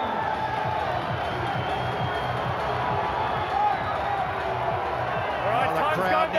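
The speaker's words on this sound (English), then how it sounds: "The crowd now roaring their support." Large stadium crowd at a Taranaki versus Hawke's Bay provincial rugby match roars steadily throughout, a dense, continuous wall of cheering and babble that swells slightly near the end.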